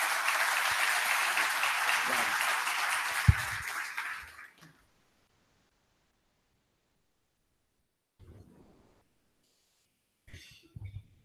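Audience applause welcoming a monsignor at a sports management seminar, sustained crowd clapping with a cough partway through, ending abruptly after about four seconds, then near silence with faint shuffling and a few quiet sounds.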